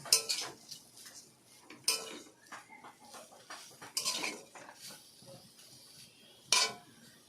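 Grated coconut is stirred into semai in a pan, with a utensil scraping and clinking against the metal in irregular strokes, fairly faint and close, with a sharper clatter near the end and no talk.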